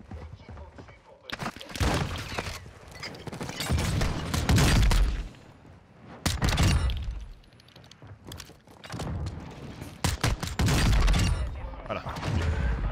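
Gunfire from the Warzone 2 shooter comes in repeated loud bursts and shotgun-like blasts, clustered close together with short gaps between them, while players' voices come and go beneath the shooting.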